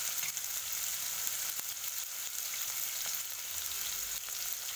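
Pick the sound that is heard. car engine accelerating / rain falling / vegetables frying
vegetables frying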